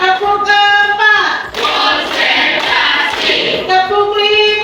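Hands clap together in a classroom counting clap game, a burst of claps rising to louder, denser clapping in the middle before fading, with a voice speaking at the start and end.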